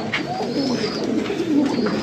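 Faqeer Gul pigeons in a breeder's home loft coo softly and steadily at close range, a low continuous burbling murmur with a few brief higher chirps, no talking.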